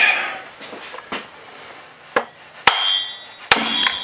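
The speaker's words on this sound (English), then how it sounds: "Use a brass hammer." A brass hammer taps a part on a worn Stihl TS400 cut-off saw during a teardown, giving four sharp metallic knocks spaced about a second apart, close and fairly loud, heard without talk.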